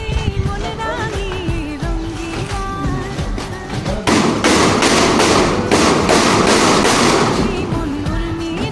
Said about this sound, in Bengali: স্ক্রু মারার আগে আমরা লোহাগুলো পিটিয়ে নিচ্ছি, যাতে করে টিনটা সরানো না করে।